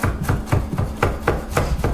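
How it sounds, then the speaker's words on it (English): A knife minces garlic with a pinch of salt on a cutting board, about eight crisp, close chops in a fairly regular rhythm, each a sharp thud against the board, with no talking. "We're going to add a good pinch of salt to our garlic, and we're going to start mincing."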